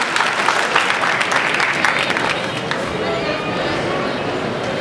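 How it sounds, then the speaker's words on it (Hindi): Loud, sustained audience clapping and crowd noise fill the hall after a fight winner is announced at a 2008 martial arts championship, with the dense applause continuing steadily throughout. "जोरदार तालियों के साथ स्वागत।"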